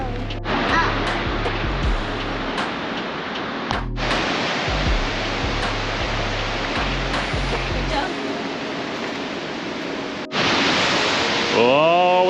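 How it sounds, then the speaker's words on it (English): Australia's tallest waterfall near Cairns, heard on a hike, gives a loud, steady broadband roar of falling water filling the whole clip, with a few low muffled sounds beneath it. "Can you hear the waterfall?"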